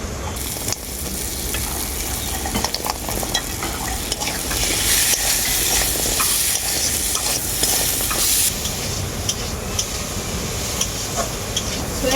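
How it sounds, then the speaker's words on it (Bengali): Soya chunks are stirred into a sizzling spice masala in a pan for khichuri. A continuous, loud fry hiss runs under repeated scraping stirs for about twelve seconds. "বড়ি দেওয়ার পর খুব ভালো করে আমি নাড়াচাড়া করে নিয়েছি"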